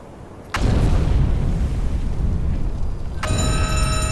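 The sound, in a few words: torpedo strikes exploding on a ship, UBOAT video game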